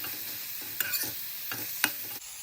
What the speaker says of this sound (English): Now add fried onions, mix and cook for another minute.